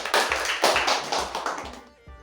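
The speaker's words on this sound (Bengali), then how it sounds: "হাততালি হোক" Quiz audience applauding after both teams answer correctly, a brief burst of clapping with a few sharp spaced claps standing out, moderately loud and fading toward the end.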